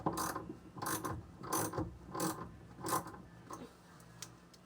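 A ratchet tightens the steering wheel onto a VW Bus with a steady run of sharp, close metallic clicks in an even rhythm.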